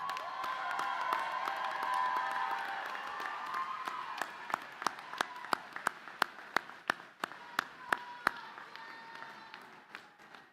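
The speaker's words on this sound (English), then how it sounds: "let's give them a well-deserved round of applause" A graduation commencement crowd applauds families and friends, the broad clapping fading after a few seconds into a run of sharp, isolated claps from a scattered few.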